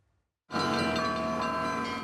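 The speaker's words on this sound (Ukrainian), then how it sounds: "Дзвони Володимирського собору скликають на літургію." Church bells at St Volodymyr's Cathedral ring out to call worshippers to liturgy. After a moment of silence they start suddenly and then sustain a rich, steady, loud peal.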